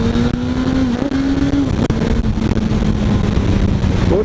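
A 1981 Honda CB750F motorcycle engine revs hard under acceleration with a close, loud, continuous drone whose pitch holds and shifts slightly as the throttle stays open.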